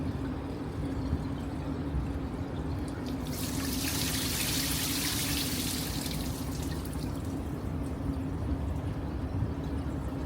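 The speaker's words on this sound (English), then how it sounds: "the sound of water is from the infinity pools" Gentle continuous water trickling and sloshing in a cruise ship's infinity pools as the ship rocks on ocean waves, against a steady low hum, with a brief hiss of rushing water in the middle.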